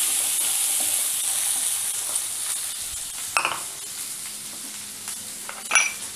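Asafoetida powder goes into a pan of frying kidney bean sundal, and the oil hisses in a steady bright sizzle with a few stirring scrapes and small spatters, no voices.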